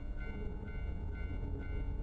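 A train passes near at hand with a continuous heavy rumble and faint repeating rail clicks, steady and loud throughout, with no talking.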